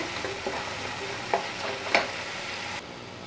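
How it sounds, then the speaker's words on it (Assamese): Steady sizzling of black sesame seeds frying in a pan, with a few scraping stirs and clinks, close by and continuous until it suddenly quiets. "এতিয়া এইখিনি অকণমান সময় ভাজি দিম"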